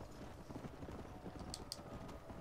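Horse hooves clip-clopping at a steady run in Red Dead Redemption, a quick repeated beat sitting in a busy, low mix with brief bright clicks near the end.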